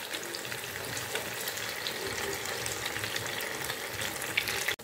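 Rice flour vadas fry in hot oil with a steady, dense crackling sizzle that holds even and close throughout, ending in a brief bump near the close.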